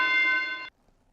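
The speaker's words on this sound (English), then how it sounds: "There's just a bell. This is from a video game." A bell sound effect from an old video game: a single bright, sustained ringing tone with steady harmonics that holds for about two-thirds of a second, then cuts off abruptly into near silence.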